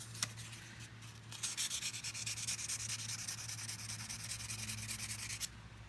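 Sandpaper scrubs a part of a Cold Steel TiLite VI pocketknife by hand in quick, steady back-and-forth rasping strokes. The sound is close but fairly quiet, with a low background hum and no speech.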